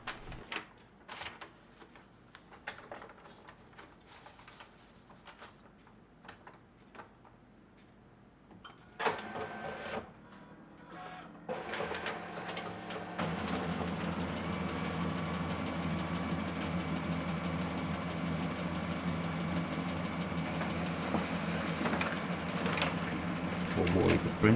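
A Brother DCP-L2550 laser all-in-one printer photocopying: mechanical clunks and whirs start and stop, then it grinds and hums continuously with a steady rumbling drone.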